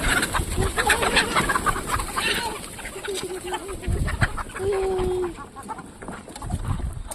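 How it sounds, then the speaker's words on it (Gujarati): Roosters roam loose on a farm, with several scattered crows and clucks at moderate distance, including one clear drawn-out call near the middle over steady outdoor background noise. "બીજા ફાર્મમાં કુકડા છૂટા થઈ ગયા."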